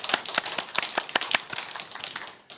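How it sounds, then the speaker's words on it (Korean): A congregation at a Korean Full Gospel church's Sunday morning service gives a short burst of applause. Sharp, uneven claps sound close, then taper off within about two and a half seconds. "그 예수님께 감사와 찬양과 영광의 박수를."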